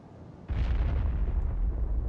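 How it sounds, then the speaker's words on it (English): A ship crashes and explodes in the space game Dual Universe, bursting in suddenly as a deep, rumbling boom that swells and rolls on, heavy and sustained, with no speech over it. "Oh, someone just crashed. Hear the explosion in the background?"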